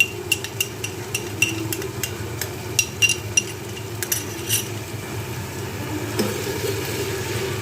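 Garlic ginger paste frying in a pan gives a low sizzle, broken by repeated sharp clicks and scrapes of a utensil stirring against metal.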